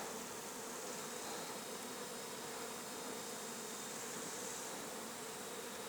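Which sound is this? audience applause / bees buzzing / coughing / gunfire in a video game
bees buzzing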